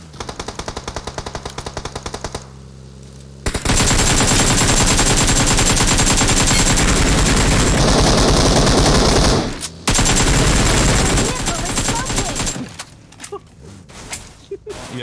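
Automatic gunfire from a PUBG match crackles in rapid bursts, loud and sustained for several seconds with brief gaps, followed by quieter scattered game sounds.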